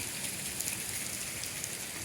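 A heavy Punjab downpour hisses evenly and close by, a constant dense wash of falling water with scattered sharper drop impacts and no voices.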